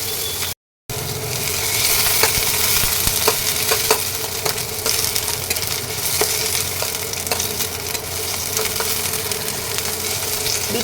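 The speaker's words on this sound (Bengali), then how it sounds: "দিয়ে এবার ভালো করে ভাজবো" Chopped beans and beetroot frying in a pan with a steady, close sizzle that carries on throughout, broken only by a brief gap near the start, with faint clicks of stirring.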